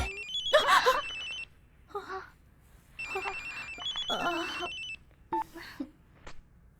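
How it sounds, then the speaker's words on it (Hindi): A telephone rings in repeated bursts of bright electronic tones with short pauses between them, close and fairly clear, in a dubbed South Indian action drama film. "कब से फोन रिंग हो रहा है"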